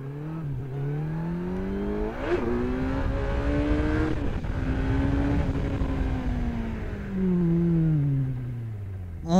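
A 2018 Kawasaki Z900 motorcycle engine revs up and down close by, its pitch climbing and falling in steady sweeps through several throttle blips before a final rising surge.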